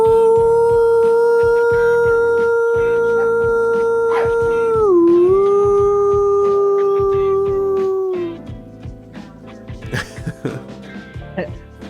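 A man imitates a wolf howl with his voice, holding one long wavering note for about eight seconds, close and loud. Scattered clicks and short noises follow.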